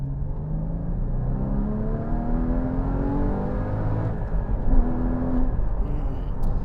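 A 981 Porsche Cayman GT4 engine heard from inside the cabin, a steady droning hum with rising pitch sweeps as it revs and shifts through gears.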